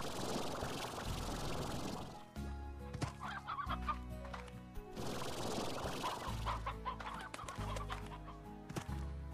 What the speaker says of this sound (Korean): 그럼 페인트 암탉 몇 마리 끌고 가서 먹이자